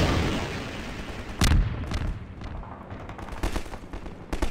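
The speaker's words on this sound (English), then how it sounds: "Can I shoot a rocket at you people, or can I just shoot rockets at annoying things?" Rocket launcher fire in Half-Life 2: a loud blast near the middle, then scattered thuds and crackling bursts against steady game background noise.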